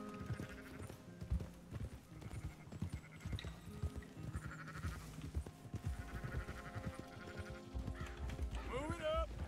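Several sheep bleat in short, wavering calls in a video game amid game sounds and hoofbeats, with a person talking and cheering over them.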